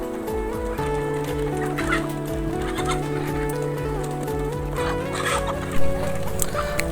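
Backyard chickens, native Thai breeding stock, cluck and murmur steadily in a busy coop, a dense layer of bird calls with a brief louder squawk near the end.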